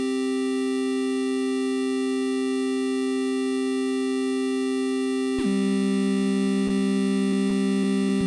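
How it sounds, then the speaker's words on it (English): Synthesized triangle-wave tone holding a steady sustained pitch for about five seconds, then jumping to a new note with a few short blips after it, no voices. "And this was made with a triangle wave."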